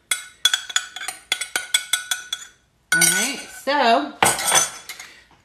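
A metal spoon clinks rapidly against a dish while stirring Good Seasons Italian dressing mix, a quick run of bright taps followed by bursts of speech.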